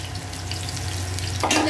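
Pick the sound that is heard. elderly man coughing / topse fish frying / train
topse fish frying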